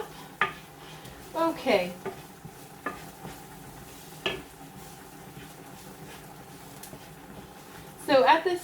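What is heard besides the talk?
stirring turmeric into cooking mixture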